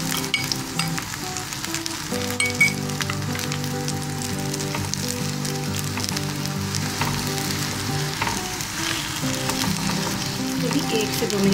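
Food frying in oil in a pan for a healthy breakfast, with a steady, close, continuous sizzle and crackle throughout and no talking.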